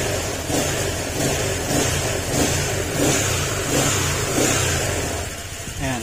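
A Honda Click 150 tricycle motorcycle engine with a fresh piston pin and gasket revs up steadily and loudly, a mid-pitched motor sound that surges in repeated throttle pulls without any talk.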